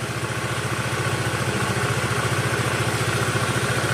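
A Honda Vario 110 scooter idles during carburetor adjustment, a steady, close, loud engine putter with an even rapid pulse throughout and no talking.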